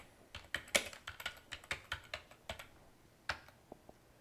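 Keystrokes on a computer keyboard come in quick, irregular bursts of soft clicks, quiet and close, with short pauses between groups of keys.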